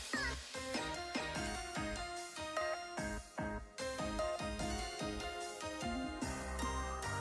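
Pet cats in a home where a woman is doing yoga with them, meowing that is mixed with loud rhythmic music and persists for several seconds.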